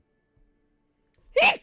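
A single sharp sneeze bursts out close by after more than a second of near silence, loud and brief.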